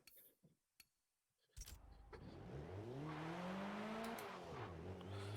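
Car wheel spin in a racing video game on Xbox One: a few clicks, then an engine revving up loudly with its pitch climbing and holding high, dipping briefly near the end.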